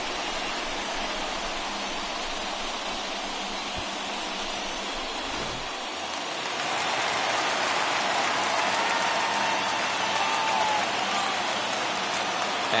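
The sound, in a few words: baseball stadium crowd cheering after RBI base hit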